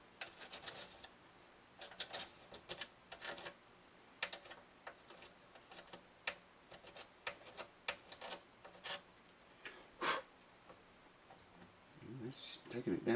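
Scraping off the finish on a Martin HD-28 acoustic guitar: quiet, irregular scratchy strokes, some short and crisp, close up, with a brief louder rasp near the end.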